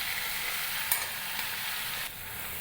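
Ginger-garlic paste being stirred as it fries in a hot wok with whole spices, a steady close sizzle with light scraping strokes throughout, no voices.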